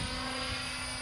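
A helicopter performs an aerobatic roll, its engine and rotor giving a steady, loud, dense drone with a continuous whine, heard close up without any talk.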